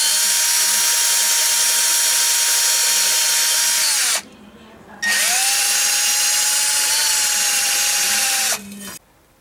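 Rotary wire brush on a power drill scrubbing rust from the shoe contact points of a 2005 GMC Sierra 1500 rear drum brake, a loud steady high whine with a short pause near the middle and another at the end.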